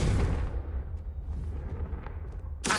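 A Confringo blasting spell explodes in Hogwarts Legacy: a loud burst opens, decays into a rumbling crackle, then a second sharp blast hits right at the end.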